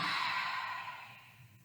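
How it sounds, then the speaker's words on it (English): A single deep exhale during a yoga breathing exercise, a long breathy rush of air that starts close and strong and slowly fades out. "And then exhale, let it go."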